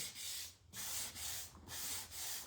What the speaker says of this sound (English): you do want to kind of go with the grain of your wood whenever you're sanding anything